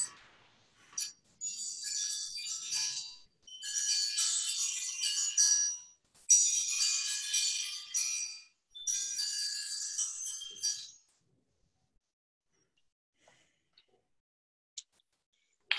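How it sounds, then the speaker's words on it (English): Small bells ring in four bright, shimmering bursts of a couple of seconds each at a winter solstice gathering, with brief gaps between them, then quiet with a few faint clicks. "That's a new way of ringing in the New Year's with those little bells."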